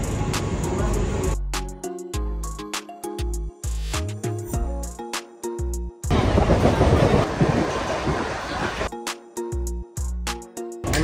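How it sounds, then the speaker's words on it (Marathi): An early-morning commuter train rides toward Dadar. It gives a loud, rumbling roar with rhythmic clacks and uneven bursts and lulls, plus a sustained noisy stretch in the middle. "चला, 5:08ची ट्रेन इकडून आणि 6:45ची ट्रेन दादरवर"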